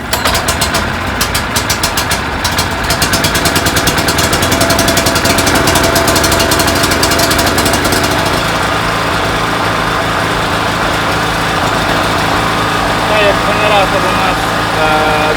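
Brand-new Profinstrument BG-3800 petrol generator on its first start, engine catching and settling into a loud, steady running drone that continues throughout, with its choke still open.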